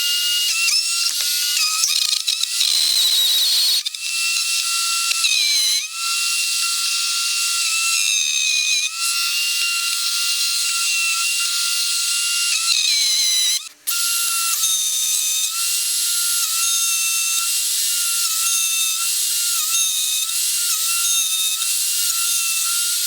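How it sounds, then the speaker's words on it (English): A power drill bores into wood with a stepped bit for a homemade tenon jig, a loud, steady high-pitched whine running continuously with brief dips, close up and with no talking. "I'm going to step it down until I get to depth, because you don't want to drill everything all at once."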